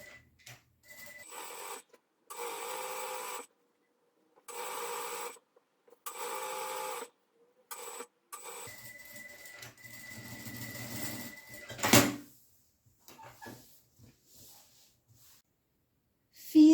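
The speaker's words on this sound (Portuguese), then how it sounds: "Nós vamos unir esses dois lados, direito com direito, e vamos passar uma costura, no tamanho de um pé de máquina, em toda essa lateral aqui" A sewing machine runs in several short bursts, stitching a seam along the side of two tricoline cotton pieces joined right sides together for a pillowcase, whirring between pauses before a sharper clack and quieter handling near the end.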